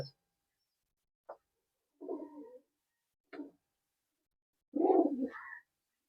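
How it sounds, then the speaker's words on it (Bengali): Pigeons, Madrasi, Teddy and Murshidabadi tumbler breeds, sitting on eggs in a loft give a few soft, low coos separated by quiet gaps, the last one longer and fuller. "এই যে এখানেও পায়রাতে ডিম নিয়ে বসে আছে"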